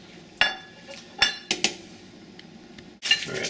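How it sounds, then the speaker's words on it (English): Diced white potatoes dropped into a pot of Colombian ajiaco potato stew, giving a few sharp clinks and knocks against the pot, spaced apart, with a louder clatter at the end. "Alright, so we put our potatoes in here."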